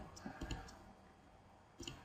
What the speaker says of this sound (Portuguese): dou um clique no segundo parágrafo